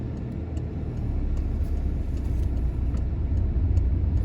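A car moves off in first gear through a car park, its engine a steady low rumble that builds slightly after the first second and holds at close range with no talk.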